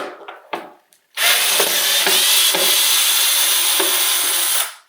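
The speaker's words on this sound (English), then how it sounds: "that's why I love this Dremel" A Dremel rotary tool grinds into a screw on an old boombox, starting after a few short handling knocks, then a loud, continuous high-pitched whine for nearly four seconds before cutting off abruptly, close and with no voices.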